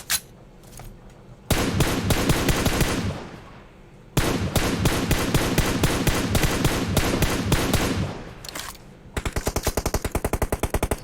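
Loud automatic gunfire in PUBG Mobile, with long sustained bursts of rapid shots, a brief pause between them, and a final quicker rhythmic burst. No one speaks.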